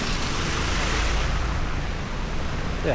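Rain falling on water and heard from underwater while swimming in Japan makes an intense, fizzing hiss like sparkling water. The broadband sound is continuous and close, with no voices.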